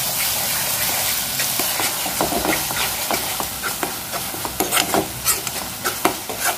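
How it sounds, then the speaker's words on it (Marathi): Spinach puree sautéed in oil in a pan for palak paneer, a continuous close sizzle and bubbling with scattered scraping stirs and pops, heard alone without talk. "तेल सुटेपर्यंत चांगली प्युरी परतून घ्यायची."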